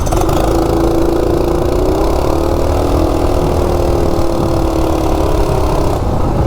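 Loud, close engine of a Coleman RSV minibike with a stock 196cc engine and Coso carburetor, revving steadily as it accelerates from 0 to 30, with a rising then holding pitch and wind rush, no talk.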